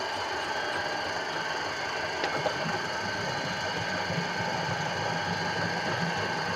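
A mixing machine runs steadily while blending liquid window-cleaner soap, a constant mechanical hum and whir with a faint rattle, moderately loud and unbroken throughout, with no talking.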